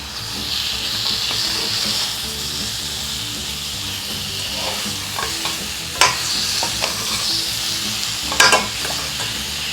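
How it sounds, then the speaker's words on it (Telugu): Chicken being stirred into a sizzling tomato gravy with curry leaves, a steady frying hiss broken by a few sharp scrapes and clatters of the spoon against the pan, close and loud with no talking. "ఇప్పుడు దీంట్లో మనం క్లీన్ చేసి పెట్టుకున్న చికెన్ వేసుకోవాలి. బాగా మిక్స్ చేసుకోవాలి."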